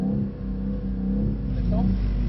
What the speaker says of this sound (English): Keep those revs low.